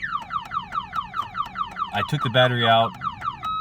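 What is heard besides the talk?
1994-2001 Toyota Camry car alarm sounding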